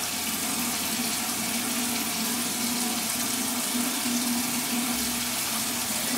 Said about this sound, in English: So I'm just rinsing off.